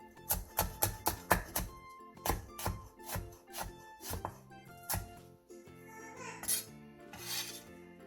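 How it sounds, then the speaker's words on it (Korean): Knife finely chopping Cheongyang chili peppers that have been split lengthwise, a fast run of close, crisp cuts on a board, then scattered slower taps and scraping with no talk. "청양고추 2개를 길게 반으로 가른 뒤 쫑쫑 썰어주세요."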